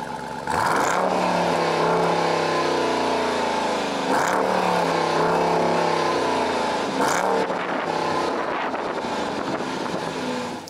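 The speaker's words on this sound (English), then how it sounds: "it's basically got a muscle car V8 deep tone, which sounds really good" A 2018 Dodge Durango SRT V8 SUV revs through its large dual exhaust, three deep, loud throttle blips rising and falling at intervals, with a rumbling idle between them, close by.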